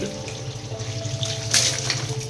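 Water poured or sprayed onto a freshly built wall for a kitchen breakfast counter, a steady close splashing and trickling with a brighter spatter near the middle, no talk.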